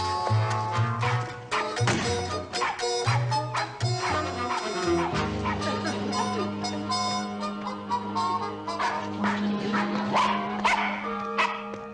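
A dog barks repeatedly in short, loud bursts, with some yips and whimpering between barks, over a steady musical backdrop.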